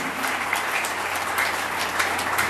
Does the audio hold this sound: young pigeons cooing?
no